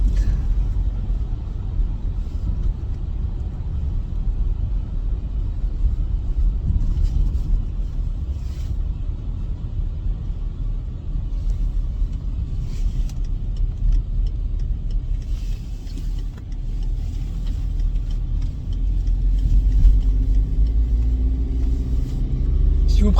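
Car driving along a road, its steady low engine rumble and road noise continuous throughout, swelling slightly near the end, with faint talk over it.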